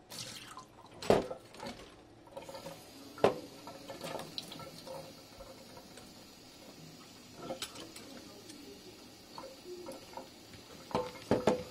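Cold water is poured into a self-heating instant hot pot topped with dried chilies, giving scattered splashes, drips and light clatter at close range over a quiet background, with no talking.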